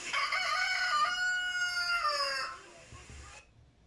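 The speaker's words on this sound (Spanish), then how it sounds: "No había terminado de hablar cuando el gallo empezó" A rooster crows once, a loud and near drawn-out call that rises and holds for a couple of seconds before breaking off, then quiet.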